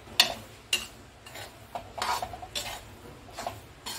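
Gram flour roasts in a pan as a spoon scrapes and stirs it, giving a series of sharp metallic clinks and rasping scrapes at an irregular pace, close and fairly quiet with no talking.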